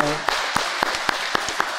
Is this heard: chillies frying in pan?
no